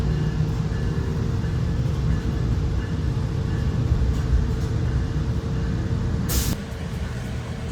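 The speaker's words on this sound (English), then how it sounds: "here is our train that will take us back to Millennium Station" Inside the lead car of a Metra Electric commuter train, a steady loud rolling rumble and motor hum fill the cabin as it gathers speed, with a short sharp hiss of air near the end.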